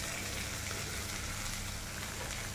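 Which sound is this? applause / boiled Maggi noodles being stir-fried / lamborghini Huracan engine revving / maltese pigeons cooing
boiled Maggi noodles being stir-fried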